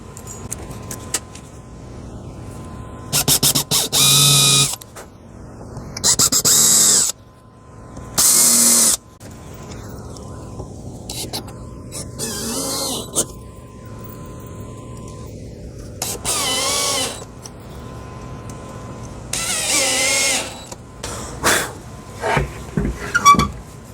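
Power drill driving number 6 one-inch screws into a wooden table saw crosscut sled, in several short bursts of whirring with quiet pauses between, close by, along with small handling clatters.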